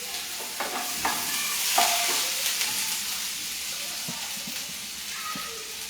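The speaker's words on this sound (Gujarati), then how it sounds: "હવે આમાં આ લીલા મરચાં જે આપણે લીધા છે એ હું એડ કરું છું આમાં." Green chillies frying in hot oil in a pan, a steady close sizzle with scattered stirring clinks and scrapes throughout, no talking.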